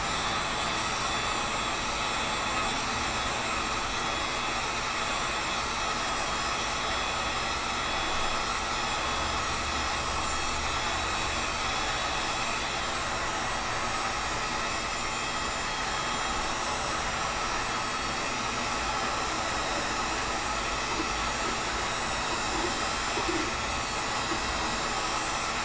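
A heat gun blows a steady, loud airy roar while PVC pipe is heated to flatten it for a sword build, running unbroken and close throughout.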